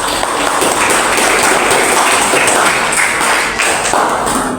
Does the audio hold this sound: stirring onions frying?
no